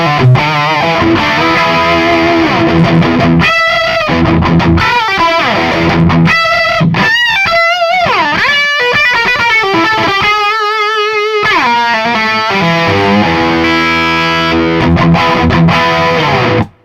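An electric guitar plays through a Metro-Plex amp with extra gain and a woody midrange, sounding loud, distorted and overdriven as it runs through sustained chords and lead phrases.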